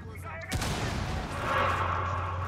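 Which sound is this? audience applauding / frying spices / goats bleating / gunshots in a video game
gunshots in a video game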